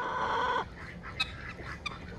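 Chickens cluck and squawk close by, with a short burst of busy clucking followed by a couple of sharp single calls against quiet farmyard background.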